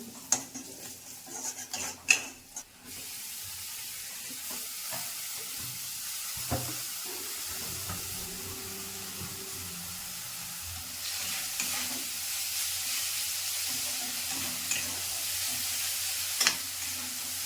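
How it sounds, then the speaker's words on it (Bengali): Chili, turmeric and cumin powder are stirred in a frying pan for cauliflower paratha, giving soft scraping and clinking of utensil against pan with a low sizzle that grows stronger near the end. "লঙ্কা গুঁড়া, হলুদ গুঁড়া, জিরা গুঁড়া ভালো করে মিক্স করে নেব"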